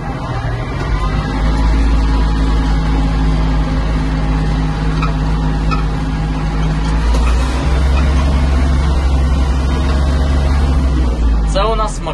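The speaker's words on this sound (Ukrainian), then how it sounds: "Це у нас максимальна швидкість трактора." A Kubota GL-260 Japanese mini tractor runs at top speed, its diesel engine droning in a steady low rumble with a constant hum throughout, and a brief squeak near the end.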